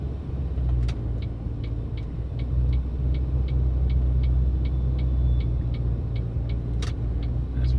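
Ford car with a CD4E automatic transmission driving and upshifting from first into second, a steady close engine and road rumble inside the cabin with a faint regular ticking running through it.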